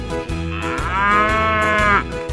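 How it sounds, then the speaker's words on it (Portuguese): A cartoon ox moos once in a long, drawn-out call that rises and swells before ending abruptly, loud and close, set against light background music. "Boi vermelho, onde está você?"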